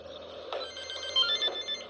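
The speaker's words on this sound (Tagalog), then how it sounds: "Sino tumatawag?" A telephone rings in a drama scene, a steady electronic trill repeating over a low background hum.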